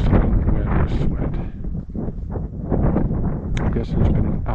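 Wind on a snowy, cold mountainside during a British Columbia moose hunt, a steady broadband rush with gusty swells that rises and dips throughout.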